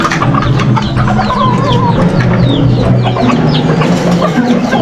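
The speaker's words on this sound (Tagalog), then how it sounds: "Dami ko na namang manok." Chickens clucking steadily in a backyard flock of fowl raised for slaughter, with a rooster among them; dense, continuous clucks and calls close by with no talk.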